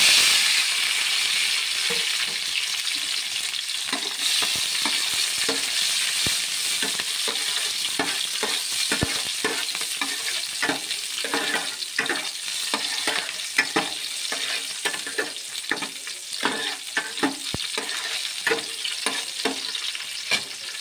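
Green chilies fry in hot oil in a kadai on a lit stove, giving a steady, loud sizzle with frequent scraping stir strokes and small pops throughout, no voices.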